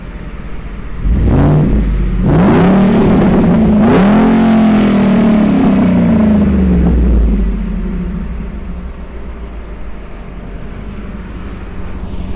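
A deep, rumbling aftermarket car exhaust revs up twice, loud and close, the engine note rising and falling before settling into a low idle.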